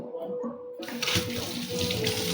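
Tap water runs steadily into a sink while drinking straws are washed at home, a close, continuous splashing stream with small knocks and clatters of handling mixed in.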